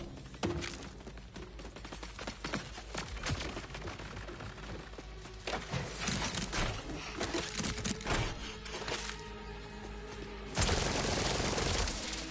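Submachine-gun fire in the shooter game Borderlands 4 rattles in dense, rapid bursts mixed with impacts and crashes, ending in a loud sustained blast of noise.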